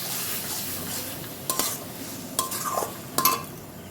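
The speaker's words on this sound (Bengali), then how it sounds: "দিয়ে আর একটু মশলাটা কষিয়ে নেব।" Spices with garam masala are stirred and roasted in a pan for a Bombay duck (loitta) fish bhujia: soft sizzling under several distinct scraping strokes of a spoon against the pan, close by and with no talking.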